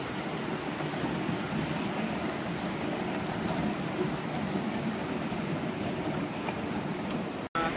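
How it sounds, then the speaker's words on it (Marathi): Heavy rain pours outdoors in the early morning near Ghansoli station, a dense, steady wash of loud broadband noise that holds evenly throughout with no voices. "निघालोय पण खूप पाऊस आहे,"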